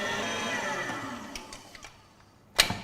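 An electric mixer gives chocolate cupcake batter a final mix, a steady whirring drone that slowly fades, followed by a few light clicks and one sharp clack near the end.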